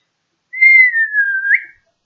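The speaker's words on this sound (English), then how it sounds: "Somebody whistle me home." A single person whistles one sustained, sliding note lasting about a second, ending with a brief upward flick, clear and close against silence.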